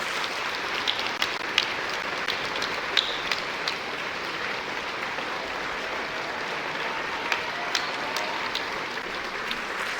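Audience at a New Year's greetings ceremony applauding steadily, a dense, even wash of clapping with a few sharper claps standing out, continuous and without talk.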